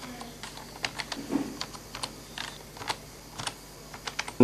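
A password being typed on a computer keyboard, a string of light, irregular key clicks up close in a quiet room, with a louder final keystroke at the end.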